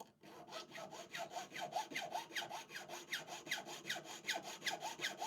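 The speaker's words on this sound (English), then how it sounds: "Instead of filing into this, I should have just cut diagonally through it" A file is worked back and forth into a handmade fabric soft toy with steady, rhythmic rasping strokes, about two per second. The strokes are close and fairly quiet, with no talk.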